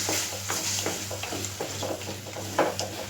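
Ground masala, dry-roasted and blended with a little curd, sautés in a pan with a steady, fairly loud sizzle, punctuated by repeated scraping stirs.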